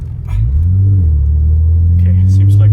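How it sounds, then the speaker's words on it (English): Car engine pulling in second gear with a clutch kick, rising quickly into a loud, close, sustained rumbling rev heard from inside the cabin. "we need to stick in second gear and clutch kick a little bit"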